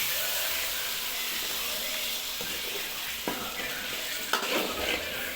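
Spice masala frying in a pan for an egg curry, a dense continuous sizzle with soft scraping stirs and a couple of sharper utensil knocks toward the end, close and without talking.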